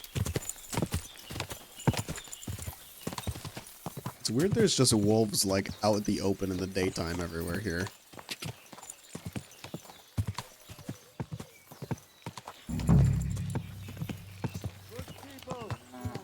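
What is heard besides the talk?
horse hooves clip-clopping in video game Kingdom Come: Deliverance II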